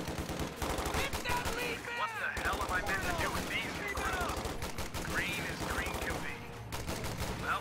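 Rapid machine gun bursts and scattered gunfire from a strategy video game battle where riflemen capture a cutoff point, dense and continuous with game music and effects layered throughout.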